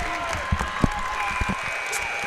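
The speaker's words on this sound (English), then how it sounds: "the crowd is hyped once again as we are back from halftime" A hyped crowd in a high school basketball gym during a sectional semi-final after halftime, a continuous roar of cheering with scattered claps, heard from within the stands and loud throughout, with a voice talking over it.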